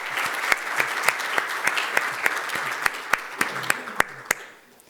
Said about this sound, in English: I feel like this deserves a big applause from us.